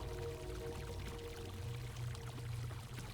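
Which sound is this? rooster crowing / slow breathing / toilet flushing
toilet flushing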